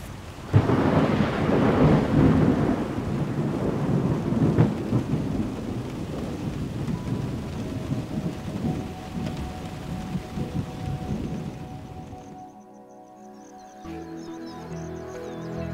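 Heavy downpour over gallery forest with rolling thunder: loud, dense rain and deep rumbles fill most of the stretch, then the storm drops away abruptly near the end to quieter ambience with faint birds.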